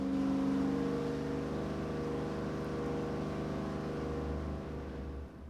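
A V8 engine fitted with a tunnel ram dual-quad intake runs steadily on an engine dyno, a loud, continuous droning rumble that eases slightly near the end, with no talk over it.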